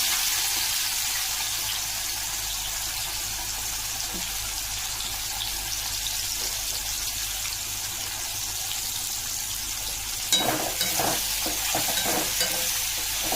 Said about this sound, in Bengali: আমি এখানে পেঁয়াজগুলো একদম লাল লাল করে ভেজে নেব